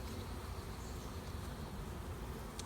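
Honeybees in an open hive give off a steady, close, dense buzzing drone with no talking.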